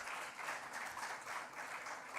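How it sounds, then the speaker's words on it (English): Faint, steady applause from an audience at an aviation industry talk on pilot training, a continuous wash of distant clapping throughout. "I think that needs a loud applause from everyone."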